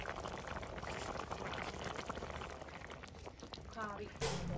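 Climbing perch and tree beans simmer over medium heat, giving a dense, steady bubbling and sizzling close by that fills the whole stretch.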